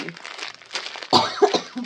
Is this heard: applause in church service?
no